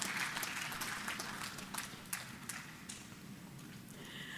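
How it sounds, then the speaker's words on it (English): An audience at a book presentation applauds for a former head of state, a soft, distant patter of clapping with a few sharper claps that gradually thins out. "Another round of applause for the former head of state and chair."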